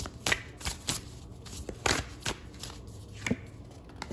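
Tarot cards are shuffled close up in quick, uneven riffles and soft slaps, repeated several times at a quiet level with no talking.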